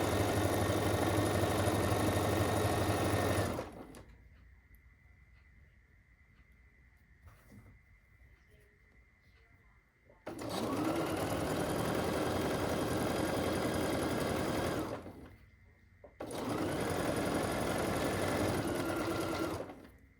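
A sewing machine runs a quilt block seam using a seam guide, stitching in two steady sustained bursts separated by a quiet pause, close and loud with no talking.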